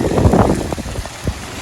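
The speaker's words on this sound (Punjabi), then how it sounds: "ਆਏ ਹਾਏ ਓਏ ਹੋਏ ਇੰਨੀ ਬਾਰਿਸ਼।" A short burst of heavy rain, with dense close patter on surfaces that thins out over a second and a half.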